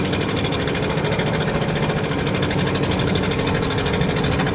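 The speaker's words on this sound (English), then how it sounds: "Put it into drive and it starts to go." A 1960 Cadillac engine runs steadily at a low rumbling idle as the car is shifted into drive and begins to roll, a close, even drone with a fine rhythmic pulse throughout.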